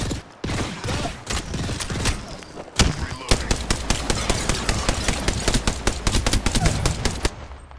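Automatic gunfire in the video game Apex Legends: loud, dense rapid-fire bursts, a brief break near the middle, then a long continuous stream of quick shots.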